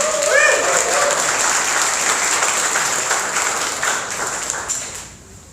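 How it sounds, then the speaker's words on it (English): A big round of applause fills a startup accelerator demo day stage event, dense steady clapping from a large crowd that stays loud, then fades out near the end. "please help me welcome up on stage with a big round of applause"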